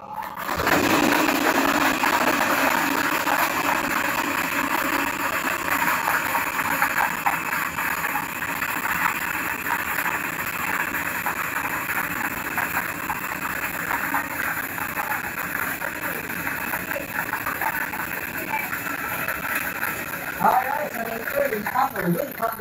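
An STL Mindanao lottery draw machine mixes the balls for an 8 pm draw: a continuous mechanical whirring roar with a faint rattle that holds steady and loud from start to finish.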